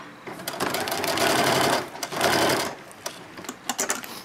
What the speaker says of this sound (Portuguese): E vamos costurar igual aquela hora. De fora a fora.